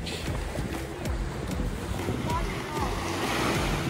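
Surf rolls in at Pass-a-Grille Beach in St. Pete Beach, Florida, a steady broadband wash of ocean waves mixed with wind buffeting the microphone.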